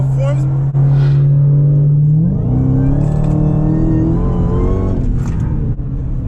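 A Dodge Challenger Hellcat widebody running on 102 octane fuel, heard as a loud, close, steady engine drone that climbs into a rising rev partway through and then holds at a higher pitch.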